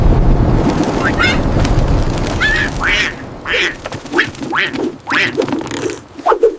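A string of loud, nasal duck quacks comes in quick succession after a gusty, windy stretch at the start.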